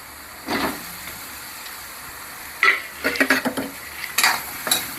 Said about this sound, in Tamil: அதுக்குள்ளே நாம் இந்த பக்கம் ஒரு கடாய் ஒன்று வச்சு நம்ம வெண்டைக்காயை வதக்கி எடுத்துக்கலாம்